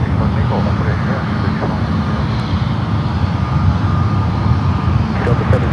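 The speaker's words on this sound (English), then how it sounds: "Turkish up first, 28 left, departure." A Turkish Airlines heavy jet taking off from runway 28 left at San Francisco airport makes a loud continuous broadband engine roar, dense in the low end and steady throughout, heard from a distance without speech.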